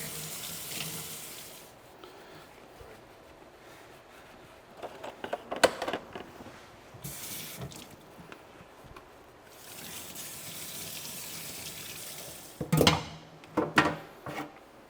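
Tap water pours into a sink as dirt bike airbox pieces, fouled by mice after years in a shed, are washed; a steady rush runs throughout with clunks and knocks of parts being handled.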